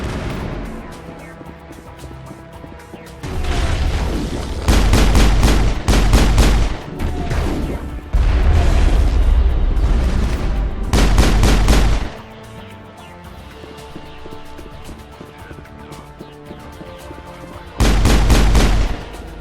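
Heavy emplacement gun in Mass Effect pounding out loud rapid volleys in several separate bursts, each a few seconds long, with quieter ambient game sound between them.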